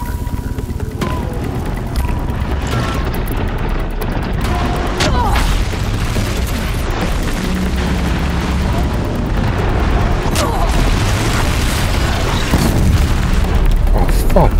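Blast canisters exploding in the video game Horizon Zero Dawn, a dense run of heavy booms and bursts rolling through the whole stretch, loud and continuous, with people talking over the chaos.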